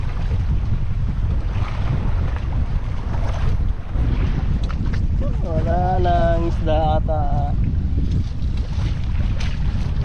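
Strong wind roars steadily across the microphone on a fishing boat on open water, with a voice speaking briefly over the constant rushing gusts.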